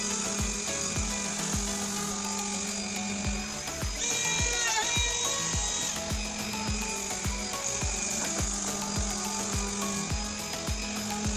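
Power router and sander working wood pieces, a steady high whine of spinning tools with repeated rhythmic knocks as pieces are worked, close and continuous.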